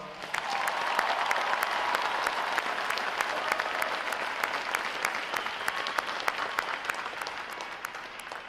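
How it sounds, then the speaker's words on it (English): Sustained applause from the crowd at a U.S. Navy boot camp graduation ceremony, a steady wash of many hands clapping with sharp individual claps standing out, even and unbroken for several seconds. "How about a round of applause to them, folks?"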